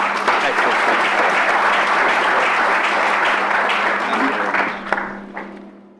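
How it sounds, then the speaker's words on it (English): Audience applause at a talk or conference session, a dense steady wash of clapping from a sizable crowd that holds for about five seconds, then thins out and fades. "So big clap and thank you to all our excellent speakers"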